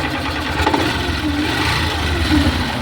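Gas motor engine being throttled up toward high RPM, a loud continuous mechanical drone, close and steady without clear distinct rev peaks.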